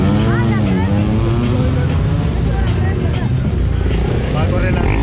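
Engine and exhaust roar from high-displacement motorcycles such as a KTM 390 and a GT 250 naked bike at a Thursday street gathering, a loud sustained drone with shifting revs over crowd chatter.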